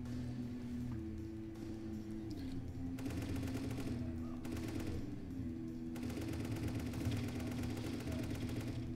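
Rapid gatling gun fire from a video game rattles in sustained bursts over a steady low engine-like drone, loud and continuous with brief lulls between volleys.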